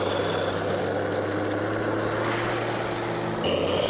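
DT-75 bulldozer engine at full throttle in SnowRunner, a loud continuous droning roar with steady low hum, pitch shifting slightly near the end.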